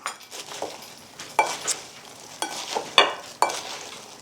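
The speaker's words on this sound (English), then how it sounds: "we stir in the sugar and spices" A spoon stirs sugar, cinnamon, nutmeg and salt into a cranberry mixture in a pot, making a series of distinct scraping and clinking strokes at an uneven rhythm, with faint sizzling in between and no talk.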